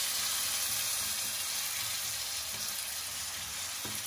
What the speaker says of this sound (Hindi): अब इसमें डालेंगे टमाटर